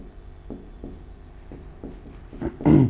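Chalk or marker strokes on a classroom board, a series of short scratchy taps and scrapes at a steady pace, ending in a louder rubbing burst.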